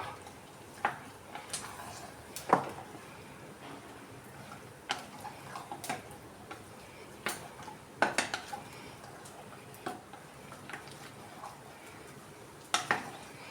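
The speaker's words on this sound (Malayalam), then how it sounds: "ഇത് നന്നായിട്ട് ഇളക്കി കൊടുക്കുക" Sparse metallic scrapes and clinks of a spoon stirring soybean curry in a metal pan, irregular taps spaced a second or two apart over quiet background.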